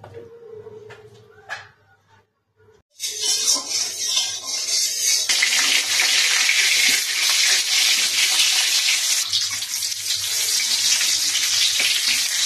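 A fish head frying in hot oil for a Bengali lau ghonto, with quiet kitchen clatter first, then a loud, steady crackling sizzle that bursts in and holds strong to the end.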